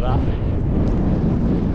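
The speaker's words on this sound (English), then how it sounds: "It's really, really windy" Strong wind roars steadily across a microphone on the hilltop of Arthur's Pike in the Lake District, a dense rumbling buffet, with a brief spoken word in the mix.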